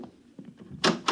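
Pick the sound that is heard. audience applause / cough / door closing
door closing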